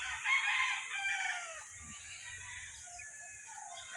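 A Grey gamefowl rooster, an imported straight-bred line, crows loudly and close at the start, its long call fading into softer clucks and farmyard rustling with no talking.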